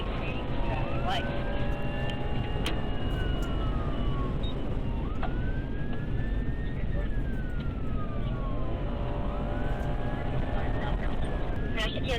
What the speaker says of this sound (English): A trooper witnessing the erratic driving activated emergency lights and sirens